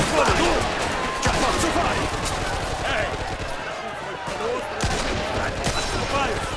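Rapid bursts of gunfire crackle through a chaotic scene, loud and continuous, with shouting voices mixed in throughout.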